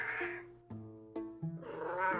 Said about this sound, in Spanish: tuvo la certeza de haber oído un débil maullido